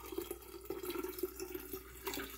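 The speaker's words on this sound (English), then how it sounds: "just pour it here and just strain it." Cerasee tea is poured and strained, giving a close, continuous trickle of liquid with small splashes and a few soft knocks.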